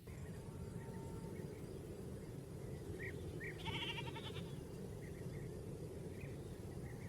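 Sheep and goats on an open green pasture let out a few faint, distant bleats over a steady outdoor rumble of wind and background noise.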